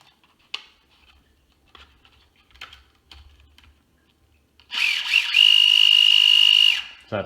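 A few light clicks and taps, then a small Axial SCX24 RC crawler motor on 2S goes to full throttle, giving a loud, high electric whine that holds for about two seconds before cutting off.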